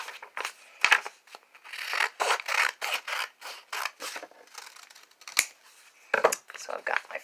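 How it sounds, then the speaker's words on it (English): Scissors snip through paper to cut out triangles for a handmade banner, a series of crisp close cuts with short pauses between strokes and light paper rustling. "So after we cut out our letters, we do need to cut out triangles."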